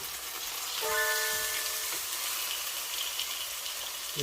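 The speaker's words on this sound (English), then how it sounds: "So I'm gonna go ahead and flip the salmon over to the other side." Honey garlic salmon sizzles softly in a pan just after being flipped, a faint steady crackle with a brief higher tone near the start.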